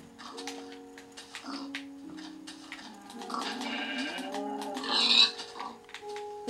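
Pigs and sheep in Minecraft on Xbox make repeated short oinks and bleats, mid-loud and alone, with a brighter squeal-like burst partway through.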